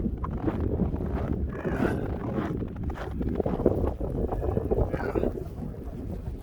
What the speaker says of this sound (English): See how windy it is and stormy.